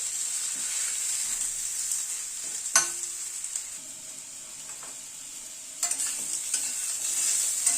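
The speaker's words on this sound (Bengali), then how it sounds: "একটু নাড়াচাড়া করে নিচ্ছি মূলোগুলোকে।" Radish pieces are stirred in a pan of simmering matar dal, a soft steady sizzle broken by a few sharp scrapes and clacks of the utensil against the pan.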